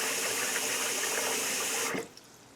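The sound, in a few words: water running into a trough style sink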